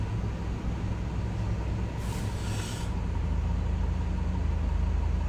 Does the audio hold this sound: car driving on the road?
yes